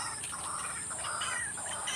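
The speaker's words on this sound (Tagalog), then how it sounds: "Uy, may ibon. Tunog po ng ibon." Small birds chirp among rice fields nearing harvest, thin bright calls layered over a dense, constant insect drone and steady outdoor ambience, no talking.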